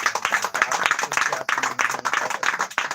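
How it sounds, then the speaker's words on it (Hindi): A church congregation claps loudly during a Hindi-language worship service, a dense, steady burst of many hands lasting the whole moment, with some voices mixed in. "प्रभु के लिए एक बार फिर से जोरदार ताली बजाएंगे"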